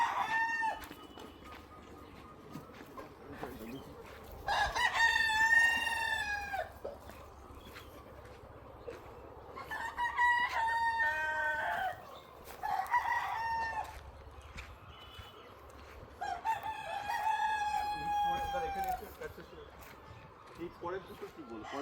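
Chickens in a large Bengali poultry farm crow and cluck in several loud bursts, close and echoing over a steady background hum, with people talking nearby.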